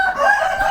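A fighting rooster at a Bangkok cockfight lets out a short, loud, close crow with a bright, sustained tone and no talk over it.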